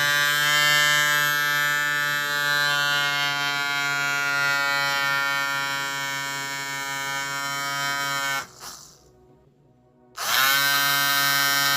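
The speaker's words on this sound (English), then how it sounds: "we are getting our DC from DC motor to power our transformer, our inverter" A DIY generator rig, with a DC motor supplying power to a 12 V to 220 V inverter, gives a steady electric buzzing whine. It cuts out briefly near the end, then resumes at full strength.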